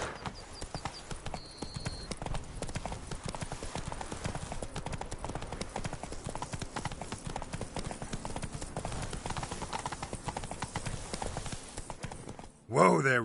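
Trotting hooves of Roach, Geralt's horse in The Witcher 3, clop steadily and fairly close for most of the stretch, with game music beneath, before stopping abruptly near the end.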